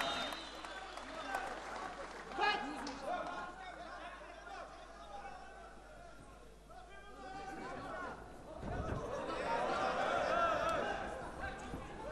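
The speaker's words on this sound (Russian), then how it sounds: "Поддержите спортсменов аплодисментами" Arena crowd at an Orynbasarov–Saipidinov bout claps and chatters, the applause swelling near the end over steady hubbub and scattered voices.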